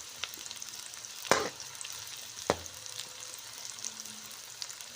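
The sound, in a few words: onions frying in a pan on medium flame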